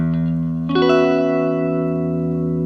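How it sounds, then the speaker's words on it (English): A major 6/9 chord with an E root is struck on an effects-laden instrument, ringing out loud and sustained with chorus and reverb shimmer, after a softer lead-in tone. "I'll just play a major 6/9 chord for you so you can hear it."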